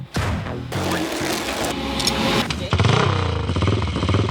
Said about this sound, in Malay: Sedap gila bunyi dia. Macam motor baru.